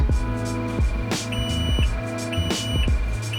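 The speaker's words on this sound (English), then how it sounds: "I'm gonna turn the bilge pump on, and if we hear an alarm, then we're successful." Repeated electronic beeping of a boat's bilge pump alarm over a low mechanical hum and throbbing, sounding in short regular bursts close by.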